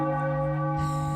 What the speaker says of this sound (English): They loved the bell.